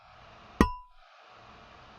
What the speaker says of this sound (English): I'll play you the sound of a metal pipe scraping followed by the sound of a metal pipe tapping